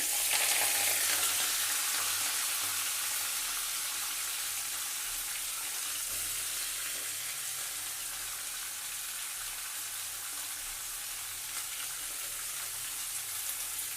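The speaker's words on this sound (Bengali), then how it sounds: "এই যে আমার কড়াইতে তেল দেওয়া হয়ে গেছে আমি কড়াইতে এবার এই ঘ্যাটকল পাতাটা দিয়ে দিচ্ছি" Kharkol leaves fry in hot oil in a wok, giving a steady, dense sizzle that holds for the whole stretch and eases slightly over time, close up with no talking.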